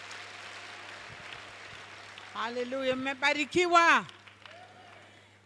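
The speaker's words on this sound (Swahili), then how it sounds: "Tumpigie Bwana Yesu makofi." Church congregation clapping praise for Jesus, a broad applause texture that a speaker's voice rises over partway through, then fades.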